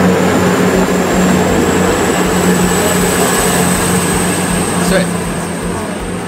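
A white and blue train with some red trim pulls away from a station, its steady rumble and hum continuous and fairly loud, with a high whine running throughout and a person speaking briefly over it.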